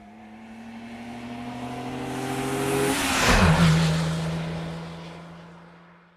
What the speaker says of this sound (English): The car is still till the lights turn green, then it starts to accelerate.